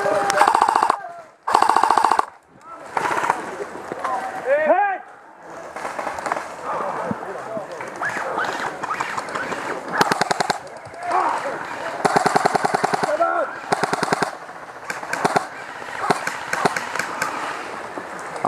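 Rapid bursts of airsoft gunfire laying down suppressing fire during an outdoor skirmish, repeated rattling volleys close by, with shouted voices between and over the shots.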